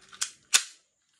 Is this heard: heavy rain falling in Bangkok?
no